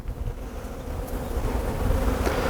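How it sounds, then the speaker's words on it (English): Honeybees swarm in the air around an open, newly established hive on a windy day, a dense steady buzzing hum close to the microphone, mixed with some wind rumble and no talking. "there's a lot of bees in the air"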